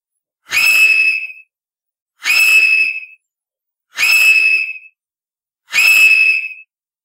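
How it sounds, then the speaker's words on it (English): Four clear whistled notes, each about a second long, evenly spaced with short silences between, loud and close. "E depicts a man who is whistling."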